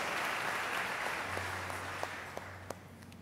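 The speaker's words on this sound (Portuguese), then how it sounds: "Aplauda Jesus porque Ele merece." Church congregation applauding during a worship service, a steady wash of clapping that fades toward the end, with a low hum underneath and a few sharper claps near the close.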